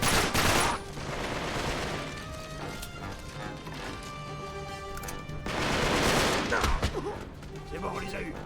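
Dense bursts of gunfire and crashing impacts from the video game Uncharted 3, loud at the start and again near the end, with a busy mix of battle sounds in between.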